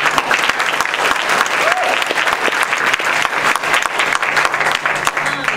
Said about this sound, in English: If you'd give a round of applause.